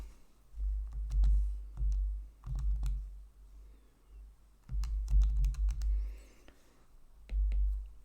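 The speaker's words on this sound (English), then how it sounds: "So when I type that into my calculator" Numbers punched into a calculator for a chemistry calculation: quiet bursts of rapid button clicks in short clusters separated by pauses, close and faint, with no voices.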